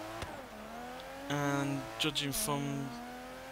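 A 2017 Aston Martin DB11 in Forza Horizon 3 revs hard through its gears, the engine note climbing and dropping with quick shift breaks, loud and close, while someone talks over it.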